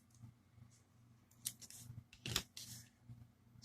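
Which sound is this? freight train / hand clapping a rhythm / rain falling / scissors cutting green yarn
scissors cutting green yarn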